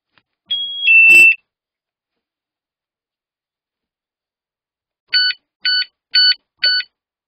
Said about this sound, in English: the siren will sound for 30 seconds unless disarmed